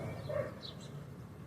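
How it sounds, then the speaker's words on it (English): A single dog bark sounds faintly at a distance over a steady low background hum, brief and isolated. "Confirmation with the dog bark."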